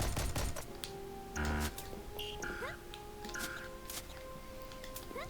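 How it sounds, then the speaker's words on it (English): Cannons firing in the video game Phoenotopia: Awakening, a few sharp bursts standing out over busy game sounds and faint tonal effects. "And somehow, inexplicably, these cannons have respawned."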